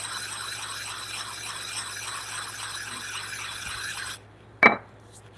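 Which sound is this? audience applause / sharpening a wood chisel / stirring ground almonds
sharpening a wood chisel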